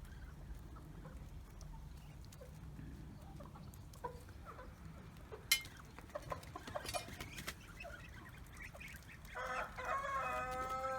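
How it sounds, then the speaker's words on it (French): Chickens cluck softly in a farmyard pen alongside a duck and ducklings, with scattered clucks and one louder sharp call, then a busier, louder burst of fowl calls near the end. "Et les autres poulets sont là."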